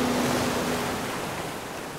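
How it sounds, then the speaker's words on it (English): Ocean waves wash onto a beach in a soft, continuous surf hiss, moderately loud at first and easing slightly, heard alone without voices. "Listening to the sound of the waves."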